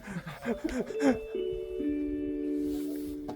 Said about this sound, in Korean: 이게 여기 종소리가 우리 초등학교 때 종소리랑 음, 똑같다